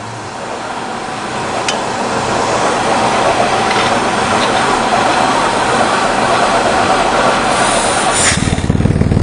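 Car engine running with the oxygen sensor pulled from the exhaust, a loud, steady rattling roar that builds slightly and bursts louder just before the end.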